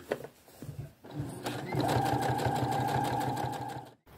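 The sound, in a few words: sewing machine understitching a wrap skirt facing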